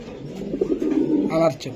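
A racing pigeon coos close by in a short low rolling call, rising toward the end, with a voice partly overlapping it.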